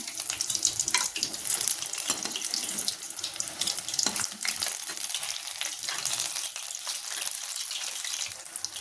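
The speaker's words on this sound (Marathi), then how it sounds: "मिरची अशी 2 मिनिट पलटून चांगली तळू द्या" Green chilies frying in oil make a continuous crackling sizzle with small pops, steady and close, with no talking.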